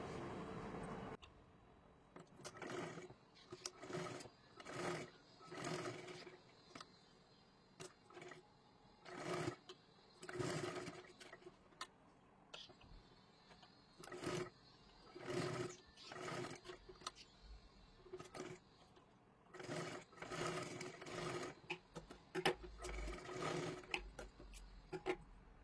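A sewing machine stitches lace onto a garment sleeve in bursts, the motor whirring in repeated short runs separated by brief pauses, fairly quiet and close.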